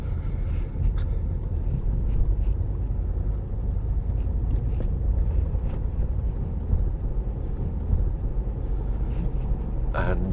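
A car drives around a bend on the old Dover Road near Folkestone, giving off a low, steady engine and road rumble from inside the cabin with faint wind noise. Someone talks over it.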